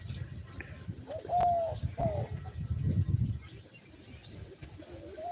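Pigeons coo nearby on a farm in low, throaty phrases, with faint outdoor ambience and a few soft rustles in the background.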